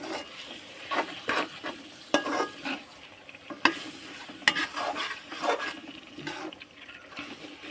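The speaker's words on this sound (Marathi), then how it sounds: "त्याला आपण परतून घेते मस्त परतून घेते" Biryani ingredients being sautéed in a pan, stirred with irregular scrapes and clinks of the spoon against the metal over a soft, continuous sizzle, close and moderately quiet with no speech.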